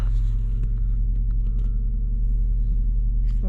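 A car bought at auction idles steadily just after starting, a smooth low rumble with faint clicks and rattles over it, close and alone without talk.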